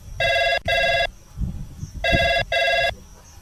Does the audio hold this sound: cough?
no